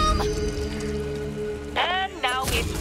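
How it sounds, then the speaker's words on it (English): Rain in the video game Back 4 Blood, a steady hissing patter on surfaces through the whole stretch, with brief voice bursts near the end. "And now it's raining."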